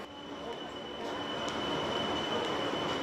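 A metro train in Mauritius rumbles along with a steady broadband roar and a thin high whine that holds throughout, growing slightly louder toward the end.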